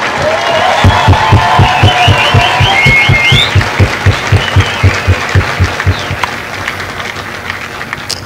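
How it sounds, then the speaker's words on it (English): Crowd applause for the drill instructors at a Marine Corps recruit graduation at MCRD San Diego, loud and sustained at an outdoor ceremony, with rhythmic steady beats underneath and a few whistles and cheers early on, slowly tapering. "would you join me in a round of applause for the Marines who make Marines the drill instructors?"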